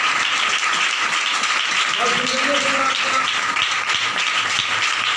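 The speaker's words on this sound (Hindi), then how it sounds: "जोरदार तालियां" Loud applause from a crowd at a stage performance, a dense continuous wash of clapping running throughout, with a voice or brief melodic sound rising faintly beneath it midway.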